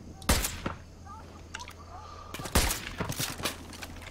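Gunfire in Far Cry 5, Hours of Darkness: sharp, loud shots near the start, then a burst of rapid repeated shots later, with quieter game sounds between.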